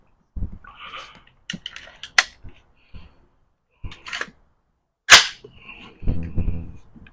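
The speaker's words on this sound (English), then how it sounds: "I'm taking another 5 shots in the center and see." Sharp gunshots from a PDW fired at a target on a range, a few single cracks spaced irregularly, with a person talking between the shots.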